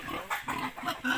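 A pig on a Filipino family's holding grunts in a quick series of short, nasal oinks, close by and fairly loud, with no talking over them.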